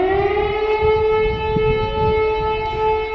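An air raid siren wails near a metro station in Kyiv by Lukianivske Cemetery, loud and steady with a rich harmonic tone that holds throughout, with no talk.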